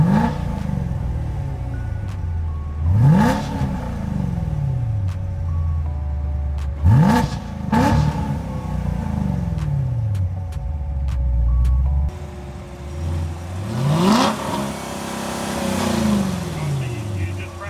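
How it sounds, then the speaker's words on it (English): A 2015 Corvette C7 sports car's exhaust revs hard three times, each roar climbing and then falling away, with a burbling idle between bursts. "So let's get some nice exhaust clips so y'all can see some of this"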